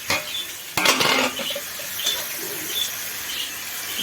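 Chicken pieces dropped into hot spiced oil for a Bengali chicken curry with potato and cauliflower, giving a sudden burst of sizzling followed by scattered stirring and pan clinks.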